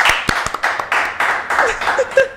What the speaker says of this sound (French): Est-ce qu'on va applaudir pour Serenouche, s'il vous plaît, les amis?